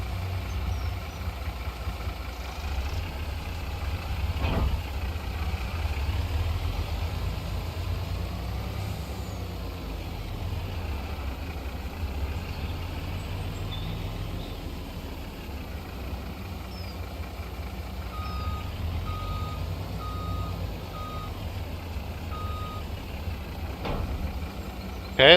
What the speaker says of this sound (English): Where's my semi-truck?